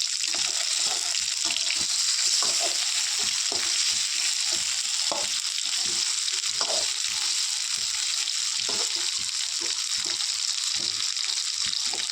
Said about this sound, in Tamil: இப்போயும் இதில் போட்டு எண்ணெயில் கொஞ்சம் நேரம் வதக்கிக்கலாம்.